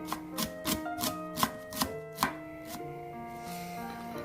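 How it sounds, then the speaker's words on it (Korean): A knife slices green onion very thinly on a cutting board, a rapid run of crisp, evenly spaced chops up close, fading into softer background sound at the end. "저는 촘촘하게 아주 얇게 썰어줬습니다"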